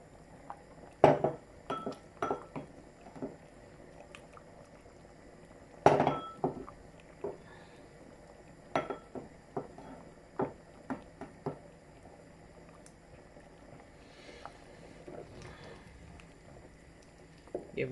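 A spoon knocks and scrapes inside a pot of Jamaican chicken foot soup as okra is stirred in, sharp clinks and soft clunks coming in irregular bursts, close by, with quiet gaps between strokes.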